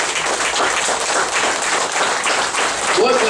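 Steady applause from an audience at a meditation event, a thick, continuous clatter of many hands near and loud, with a brief voice surfacing under the clapping toward the end.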